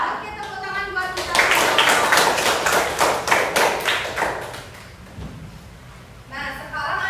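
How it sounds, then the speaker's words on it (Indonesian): Classroom pupils clap in a quick, even rhythm for about three seconds during a primary school lesson, loud and close, with a teacher talking just before and after. "tepuk tangan buat kita."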